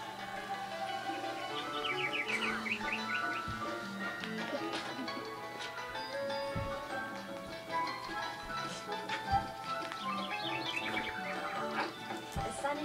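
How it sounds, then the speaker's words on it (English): Birds chirp and tweet in a sunny outdoor setting, with repeated bright trills and short calls scattered throughout over a soft background and light tapping. "birds are chirping"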